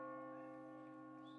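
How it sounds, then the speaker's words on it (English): Church bells rung in celebration of graduations at Pinkerton Academy, sounding as a sustained, resonant ringing tone that stays steady and fairly loud throughout, with no voices over it. "there's 212 bells being rung tonight for the amount of graduations that we've had here at Pinkerton Academy"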